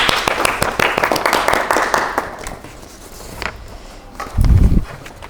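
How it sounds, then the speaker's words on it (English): A classroom of students claps their hands in a quick burst of mixed, uneven claps that thins out after a couple of seconds, followed by scattered knocks and a short low thump. "Clap your hands for yourselves."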